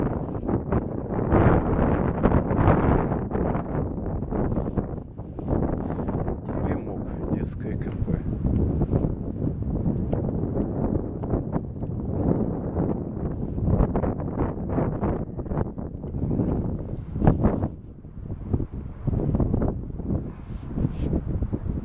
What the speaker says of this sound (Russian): Ветер подул, и тут уже моего голоса не будет слышно.